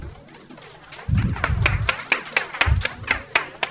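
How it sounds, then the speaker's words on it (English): Audience applause at a medical endoscopy masterclass event welcoming a chief guest to the stage, heard as scattered, uneven claps with distinct individual hand strikes rather than a dense roar, moderately loud. "Please welcome on stage with a huge round of applause."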